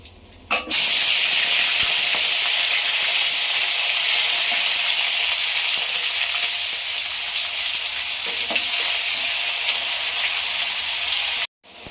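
Onion paste hits hot oil with dried chili and bay leaf, bursting into a loud, dense, continuous hissing sizzle that cuts off abruptly near the end.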